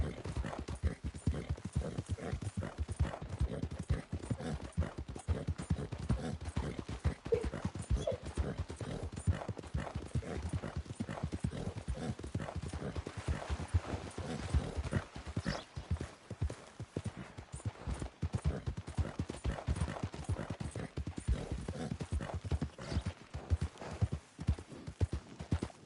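Horse hooves clip-clop steadily and continuously on the trail in a Red Dead video game, a fairly quiet, even trotting rhythm lasting nearly half a minute with no voices over it.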